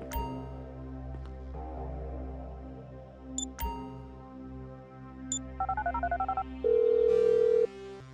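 Mobile phone being dialed in Grand Theft Auto V on Xbox 360, with beeps and tones, a quick run of dial pulses, then a steady ringing tone over game music and ambience.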